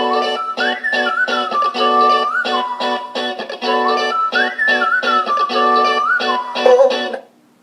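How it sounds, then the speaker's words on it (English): A song with a whistled melody over a rhythmic backing plays loudly and clearly through a Microlab MD312 Bluetooth portable speaker, ending abruptly after several seconds. "I'm going to give you a brief 3-second sample of a song just to show you the clarity"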